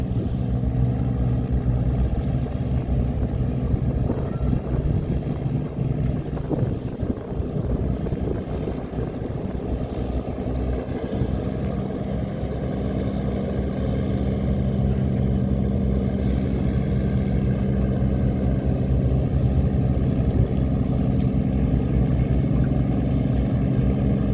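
Motor tugboats tow cargo barges upstream against a flooded river's current, giving a steady, loud low engine drone with tonal hum and a rumbling, churning texture that holds throughout without pause.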